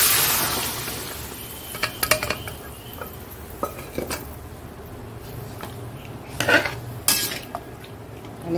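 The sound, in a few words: greens added to pan with fried five-spice, stirred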